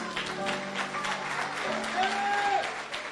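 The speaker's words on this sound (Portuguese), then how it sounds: "Você pode aplaudir a Jesus?" A church congregation applauds, a moderate, continuous patter of many hands with faint voices mixed in, heard at medium distance and fairly soft.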